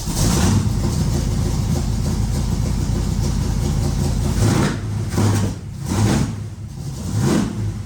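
A Chevrolet El Camino fitted with Cherry Bomb glasspack exhausts fires up and idles loudly with a deep rumble, then gives several sharp revs near the end.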